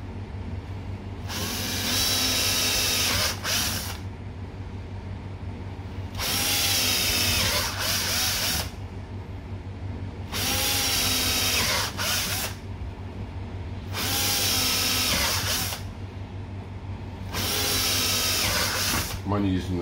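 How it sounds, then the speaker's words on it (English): A power drill bores holes in plastic for a homemade beach-detecting sand shovel, whining in five bursts of roughly two seconds each, close and loud, with short pauses between them over a steady low hum. "And I'll start drilling. There's only plastics, that should be easy."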